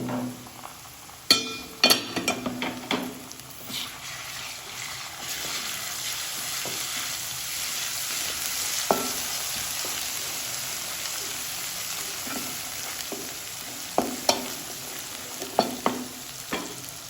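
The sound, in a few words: ginger garlic paste frying in pan for fish curry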